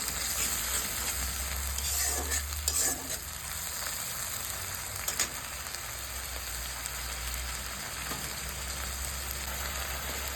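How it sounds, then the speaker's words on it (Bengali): Ginger, garlic and green chili paste frying in a pan with a splash of water, giving a steady, close sizzle that holds across the whole stretch, with a few soft stirring scrapes along the way. "আদা রসুন আর কাঁচা লঙ্কার পেস্ট দিয়ে নাড়তে থাকছি। আর একটু জল দিয়ে দিলাম। জল দিয়ে কষিয়ে নিচ্ছি।"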